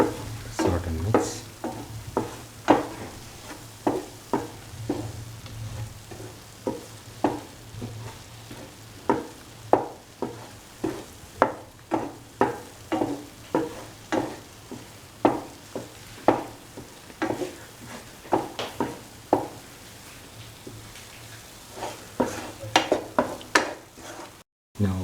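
Coriander powder being sautéed in a pan for a cottage cheese cashew stew, with repeated rhythmic scrapes and clicks of a spoon stirring over a soft, continuous sizzle.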